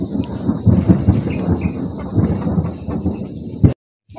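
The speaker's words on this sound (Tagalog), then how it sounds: "Kulog man di ay." Thunder rumbling outdoors in a long, loud, low roll of uneven bursts that ends abruptly, with a few faint voices nearby.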